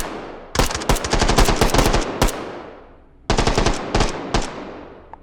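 Pistol gunfire in the VR shooter game H3VR rings out as two loud, rapid bursts of closely spaced shots, each trailing off into echo, with no talk.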